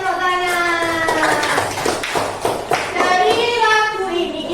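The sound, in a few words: children clapping hands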